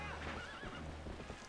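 A horse, Epona, neighs loudly in the video game The Legend of Zelda: Twilight Princess HD, one long wavering whinny over clip-clopping hooves and a steady game background.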